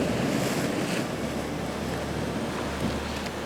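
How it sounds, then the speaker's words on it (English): Surf rolls in on rocks along the Scottish coast as a big ocean wave breaks, a broad, roaring wash mixed with wind buffeting the microphone, loud and continuous with no talking. "There's a big wave."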